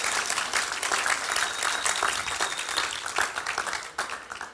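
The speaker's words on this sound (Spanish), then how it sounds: "Ahora vamos a dar un aplauso a las hermanas" A church congregation applauds, a steady wash of many hands clapping at moderate distance with a few sharper individual claps, fading slightly near the end.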